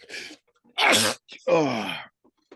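A sharp, loud sneeze bursts out, followed by a drawn-out groaning vocal sound and a short exclamation from a voice nearby.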